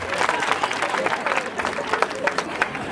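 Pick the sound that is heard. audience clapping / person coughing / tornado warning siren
audience clapping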